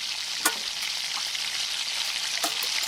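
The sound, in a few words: onions sautéing on low heat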